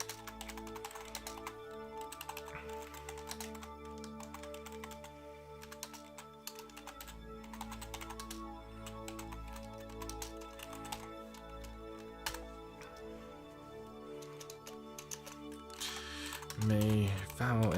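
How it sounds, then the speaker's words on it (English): Rapid typing on a computer keyboard, continuous dense clicking that runs throughout under steady background tones and game music. "Typing is excellent."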